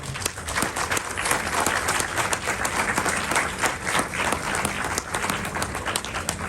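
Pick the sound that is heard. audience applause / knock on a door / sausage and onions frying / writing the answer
audience applause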